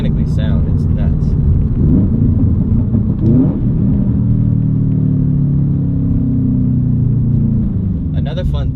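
A stock Subaru WRX STi boxer engine pulls and revs steadily from inside the car, a loud continuous rumble that rises and falls slightly, with a person talking over it.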